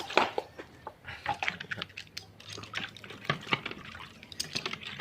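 Water washes dust off a lawn mower, giving irregular splashes, drips and wet patters that are close and moderately loud, with no talk.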